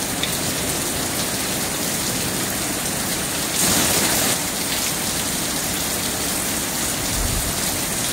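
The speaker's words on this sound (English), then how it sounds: "It's a freaking downpour now." Heavy rain pours down steadily in a Texas thunderstorm, a dense continuous hiss of drops on surfaces with a brief louder gush in the middle, no talking.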